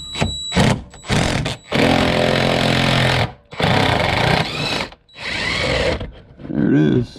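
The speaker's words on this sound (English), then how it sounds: "We're going to go ahead and fire both of those out here on the passenger side and on the driver" An impact wrench hammers in several loud bursts of rapid rattling, with short pauses between them, as 10 mm bolts are removed from a Jeep Grand Cherokee during a water pump replacement.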